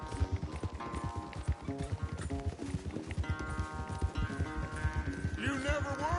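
Rapid, rhythmic hoofbeats of a galloping horse in Red Dead Redemption 2 pound steadily, layered over background music with bright tonal notes.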